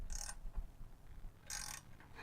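A small Husky 3/8-inch drive ratchet with a socket clicks as it turns, two brief, faint bursts of pawl ratcheting about a second apart.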